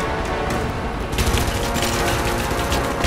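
Dense burst of gunfire from the video game Rise of the Tomb Raider, loud and sustained with overlapping shots and booms filling the whole stretch, no speech over it.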